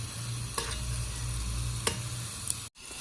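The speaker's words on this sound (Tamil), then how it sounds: "வெங்காயம் நல்லா வதங்கிருச்சு." Onions sautéing in a pan for a Tamil chicken kulambu, a constant close sizzle broken by two quick stirring scrapes, then a brief cut to silence near the end.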